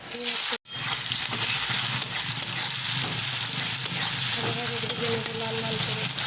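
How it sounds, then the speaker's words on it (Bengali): Cumin seeds and dry red chillies crackle in hot oil in a wok, a close, steady sizzle with stirring scrapes and soft clinks, and faint voices in the background. "এবারে কড়াইতে জিরা আর শুকনো লঙ্কা দিয়ে"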